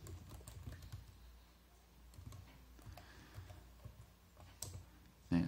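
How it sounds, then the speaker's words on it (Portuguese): Keys clatter on an Acer Aspire 5250 notebook keyboard in quick irregular bursts of close, light clicks, with short pauses between runs of typing. "Já consigo aí estar digitando"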